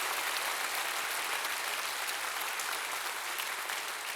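A church congregation clapping during a Spanish-language sermon, a bright, even wall of many hands applauding at once, steady and sustained from start to finish with no talking.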